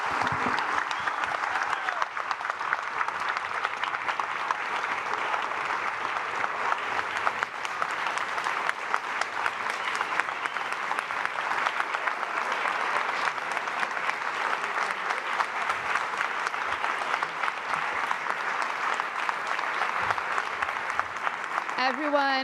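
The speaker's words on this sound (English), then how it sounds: "So let's give a huge round of applause for this incredible leader." Sustained audience applause at a COP30 event, a dense, steady wash of clapping from a large crowd lasting over twenty seconds before tapering off.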